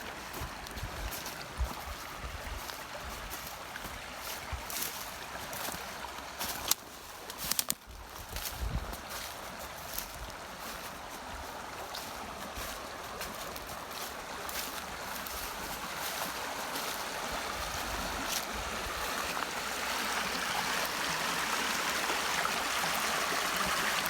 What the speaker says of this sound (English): I love this creek.